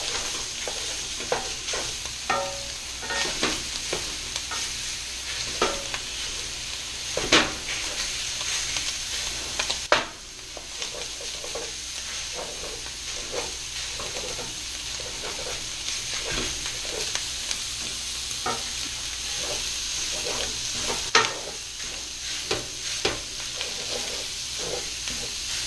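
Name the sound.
sausages frying and sizzling in a pan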